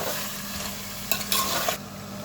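Meat sautéing in a pot for biryani produces a steady, close sizzle with a low hum underneath and a brief burst of louder stirring and scraping midway.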